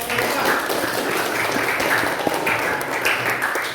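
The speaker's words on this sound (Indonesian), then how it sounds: "Oke, tepuk tangan." A classroom group gives a round of applause, a steady, moderately loud patter of many hands clapping at close range, with a single sharper clap standing out partway through.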